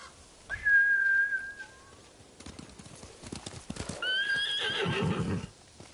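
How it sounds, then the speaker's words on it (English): In a video game, a samurai horse whinnies loudly, then hooves clop in an uneven run before a second, shriller neigh rises over the hoofbeats. "Bastards scared off the horses."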